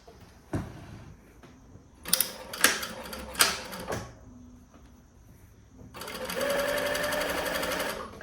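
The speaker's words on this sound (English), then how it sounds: "Make always front and back stitches at the start and end of the seam, and then sew here very close to the edge." A sewing machine stitches a seam on a lightweight summer top, with short bursts of stitching and small handling knocks, then a steady continuous run near the end, close and clear.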